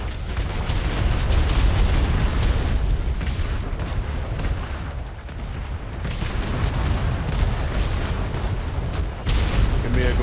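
Naval cannons fire a starboard broadside in a Royal Navy roleplay game, producing a continuous, loud roar of overlapping booms and blasts with no break in the barrage.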